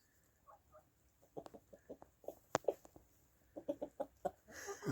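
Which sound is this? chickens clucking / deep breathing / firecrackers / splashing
chickens clucking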